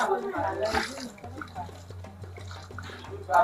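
Water pours and trickles into a pot of goat meat in a soft, continuous stream, with a little faint talk and small splashes around it.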